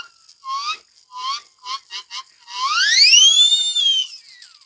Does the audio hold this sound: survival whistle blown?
yes